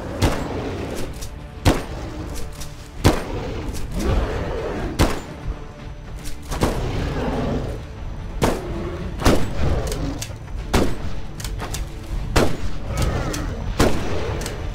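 Sniper rifle shots in a Bigfoot hunting video game, a steady series of loud, sharp cracks at roughly one-to-two-second intervals, each with a short booming tail, heard alone without talk.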